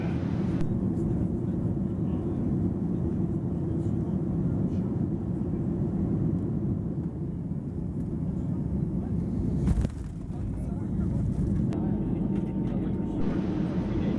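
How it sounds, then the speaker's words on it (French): A small passenger plane taxis up to the little terminal at Port-Meunier airport on Anticosti Island, its low engine drone steady and close throughout, with a brief break near the end. "les habitués voient l'avion qui les transporte venir se garer devant le petit aérogare de Port-Meunier"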